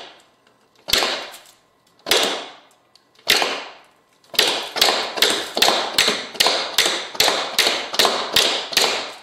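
Tap shoes slap the floor in pickup steps. Three separate loud strikes come first, then a fast, steady run of about a dozen crisp slaps, all close and clear with no voices.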